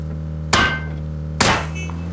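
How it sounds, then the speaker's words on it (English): Two sharp, loud gunshots ring out in the battle royale game PUBG, spaced about a second apart, each a hard crack with a short ringing tail over a steady low engine drone. "Sounds like they're shooting at you, now somebody's shooting at them."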